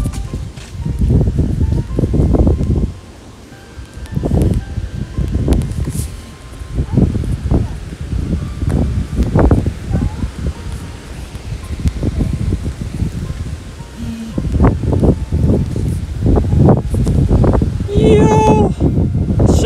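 Strong gusts blast into the microphone outdoors at a crowded Pokémon Go Fest in London, with heavy low rumbling buffets that rise and fall in bursts and a brief lull, while people talk underneath.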